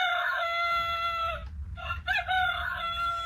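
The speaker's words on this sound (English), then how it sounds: "No, Carol Carr, the rooster's not in the auction. But we will let him talk." A rooster crows nearby, loud and drawn out, with a brief break in the middle before the call carries on. No one speaks over it.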